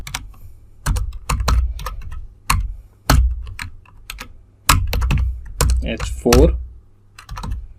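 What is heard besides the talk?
typing HTML header tags on a computer keyboard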